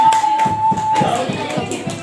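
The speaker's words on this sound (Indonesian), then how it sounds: "Tepuk tangan untuk kelompok Gunung Jati" Applause for a school group called Sunan Gunung Jati at a teachers' event, heard as a short burst of rhythmic clapping from a small crowd, steady and close, with a voice at the start.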